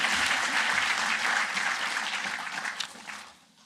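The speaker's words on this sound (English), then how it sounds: "give a round of applause to our panelists for being with us here in Copenhagen" Audience applause for a panel in Copenhagen at a talk on age-friendly communities, a steady dense clapping from a seated crowd that fades out at the end.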